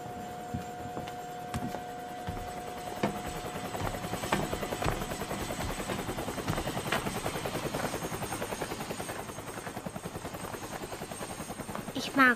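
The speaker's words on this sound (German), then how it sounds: "Hubschrauber." A cartoon helicopter in a German-dubbed Teletubbies episode, its rotor chopping in a steady rhythmic thrum that builds and grows louder as it comes in to land, with a few voices speaking over it.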